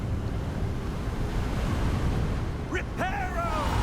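Gusting wind high up in Hogwarts Legacy, a constant broad rushing roar with faint tonal sweeps near the end, loud and enveloping.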